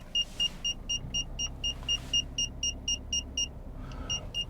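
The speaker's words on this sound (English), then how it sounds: "I have to excuse the beeps" Kia Picanto parking sensor sounding a steady series of short, evenly spaced electronic beeps inside the car while it is steered at a standstill, over a quiet low engine hum.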